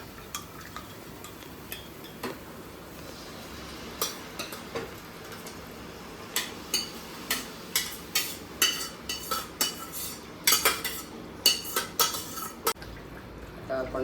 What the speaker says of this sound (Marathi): आता आपण चांगला खिमा ढवळून घेऊया